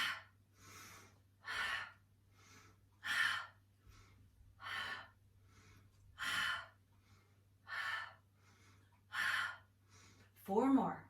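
Deep, audible breaths during a Pilates stretch and strength workout: a steady series of about nine inhales and exhales spaced roughly a second apart, close and fairly soft, with a sharper breath at the very end.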